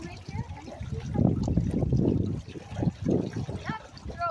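Floodwater from a large flooded parking lot gurgles and trickles as it drains into a storm drain, a close, uneven sloshing flow that surges in pulses throughout.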